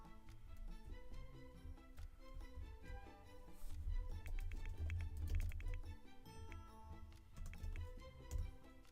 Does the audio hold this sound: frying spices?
no